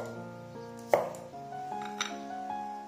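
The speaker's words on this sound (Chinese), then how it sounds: "准备一点姜蒜切粒" A knife chops ginger and garlic into small pieces on a cutting board in a home kitchen, giving a few sharp, close knocks over a quiet background with no talking.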